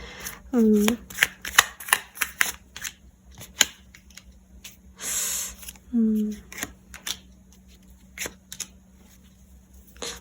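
Tarot cards being shuffled by hand in a quiet room, a run of crisp riffling flutters and soft slaps, with one longer broadband shuffle in the middle; a voice briefly hums or speaks faintly between the card sounds.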